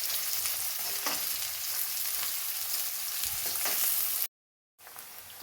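Large-cut ginger pieces frying in oil in a pan for a Kerala Onam sadya curry, a steady close hissing sizzle with occasional stirring scrapes, briefly cutting to silence near the end.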